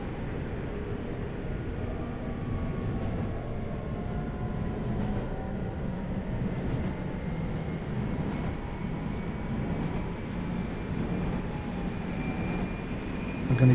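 A Seoul rapid-express metro train running in the Hmmsim Metro train simulator, K1904 line, giving a steady, even rumble and whine of motors and wheels throughout, with no talk.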